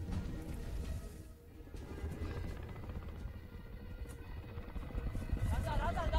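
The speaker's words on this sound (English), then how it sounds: "I'm surprised the helicopter's coming back." A helicopter from the film Lone Survivor gives off a continuous rotor drone with a low rumble, partly masked by people talking over it.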